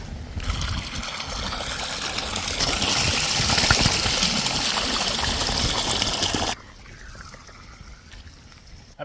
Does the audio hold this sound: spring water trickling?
yes